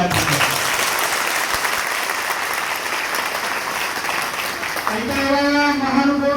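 An audience at a Vadodara Thakor Sena motivational gathering for police-exam students claps in a dense, sustained round of applause for about five seconds before a voice comes in over the fading claps.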